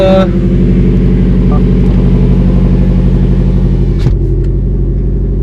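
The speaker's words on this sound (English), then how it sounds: "But here's the cold start. It's not that loud." Subaru STI with a muffler-deleted exhaust making a cold start: a loud, steady, deep idle rumble right up close, with a brief bark at the start.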